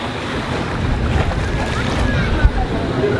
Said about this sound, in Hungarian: Ez itt a tenger, itt lehet így napozni.